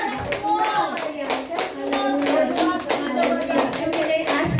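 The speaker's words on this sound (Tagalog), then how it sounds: "At palakpak muli sa Panginoon." A church congregation claps their hands during a worship service, brisk, continuous rhythmic clapping from many people with voices blended underneath.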